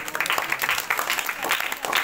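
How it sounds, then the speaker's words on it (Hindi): Students in a tuition class clap after marks are read out, a brief uneven patter of hands close by, with voices mixed in. "ज्यादा तालियां"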